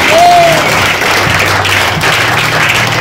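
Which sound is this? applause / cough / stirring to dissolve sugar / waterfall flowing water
applause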